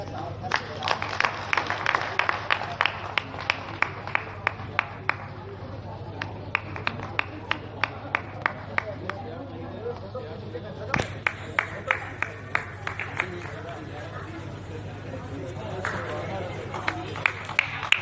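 An audience at a poetry gathering on the cultural stage of the Lucknow book fair claps in a steady, rhythmic beat of sharp individual claps, with a low crowd murmur underneath, pausing briefly and then picking up again.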